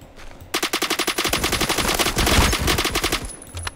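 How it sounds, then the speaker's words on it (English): Rapid automatic gunfire from the Roblox first-person shooter Phantom Forces, a loud burst of dense, steady shots starting after a brief lull and continuing for about three seconds, with fire from several weapons overlapping. "There's lots of gunfire coming from over here."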